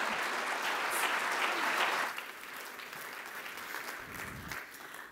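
An audience applauds to welcome a speaker at a public science talk on Australia's electricity system, a dense, sustained clapping that fades slightly after two seconds and continues at a lower level.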